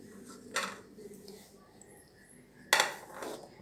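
Dry-roasted curry leaves and lentils, fried without oil, are tipped from a pan onto a plate, giving two short metallic scrapes and clinks of utensil against pan, with quiet room noise between.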